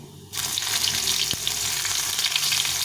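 Onions and black cumin seeds frying in oil for a small-fish and cauliflower-stalk curry, a steady broadband sizzle that jumps in loudly at the start and holds, with one brief clink partway through.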